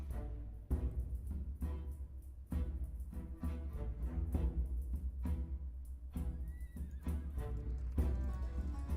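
Horses whinny and hooves clip-clop in the strategy video game Humankind, with repeated rhythmic thuds under several neighs, a steady, moderately loud game soundscape.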